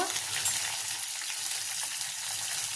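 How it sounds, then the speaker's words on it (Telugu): Cumin seeds and green chillies sizzle and fry steadily in hot oil, a continuous crackling hiss close by with no talking. "నూనె వేడయ్యాక ఒక రెండు స్పూన్ల జీలకర్ర వేస్తున్నా ఒక మూడు పచ్చిమిరపకాయలు"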